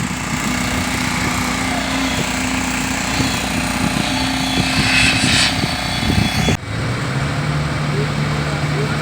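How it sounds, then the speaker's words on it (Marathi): A boom placer machine pouring concrete at a new bridge site drones with a loud, steady engine hum, and people talk over it. "ये देखो अभी बूम प्लेसर मशीन है"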